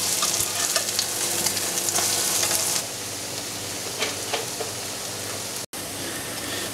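Grated potato pancakes sizzle steadily in hot oil in a frying pan, a dense close crackle that eases slightly partway through, with no talking.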